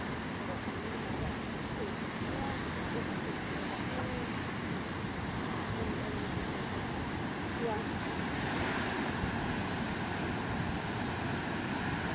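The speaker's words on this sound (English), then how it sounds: "But the waves are just beautiful there at this end." Continuous ocean surf rolling in along a Hawaiian shore, a steady broad wash of breaking waves heard from nearby, with some wind noise on the microphone throughout.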